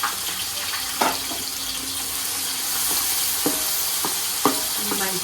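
Finely chopped onions and green chillies sizzle in hot oil in a pan, a constant frying hiss broken by occasional clinks and scrapes of a spoon stirring, with some background water noise.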